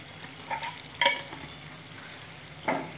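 A spoon stirs potol posto, pointed gourd cooked with poppy seed, in a pan, giving a few distinct scraping strokes over a faint low sizzle, with the loudest stroke near the middle; no voices.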